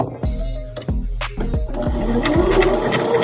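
A sewing machine runs a straight stitch forward and then backward on hoodie fabric, with rhythmic mechanical thuds at first giving way to a steady whirring hum.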